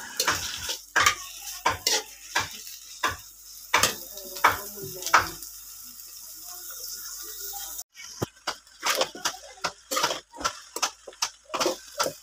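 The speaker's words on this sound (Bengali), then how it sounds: "তো এখন আমি উনুনে ভেন্ডিটা বসিয়ে দিতেছি।" Chopped okra (bhindi) is set on a home stove and stirred in a pan, giving a steady low sizzle under repeated close scrapes and clinks of a utensil against the metal.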